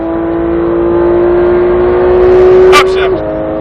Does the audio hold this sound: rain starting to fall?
no